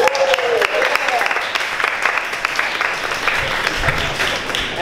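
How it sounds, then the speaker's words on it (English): An audience at a Toastmasters club closing and awards meeting applauds in a steady wash of clapping that stays even throughout, with a brief voice near the start. "Toastmasters, give yourself a big round of applause."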